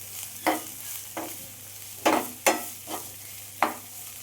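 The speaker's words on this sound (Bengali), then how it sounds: "পেঁয়াজটা আমি 2-3 মিনিটের মতো হালকা ভেজে নিচ্ছি।" Onions lightly frying in a pan, a low steady sizzle broken by about six distinct stirring scrapes and knocks at irregular intervals, close and clear with no voices.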